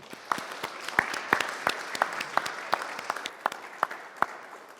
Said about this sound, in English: So another big round of applause, please.